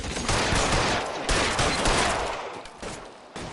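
Rapid gunfire rattles through a shootout in L.A. Noire, dense overlapping shots in loud bursts up close, ebbing briefly before another volley.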